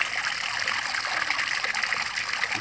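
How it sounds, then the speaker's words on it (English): Water gushes steadily from the outlet of a solar-powered drip irrigation pump system, a continuous close splashing rush with no pauses and no talking. "you can see water has started coming out from our system"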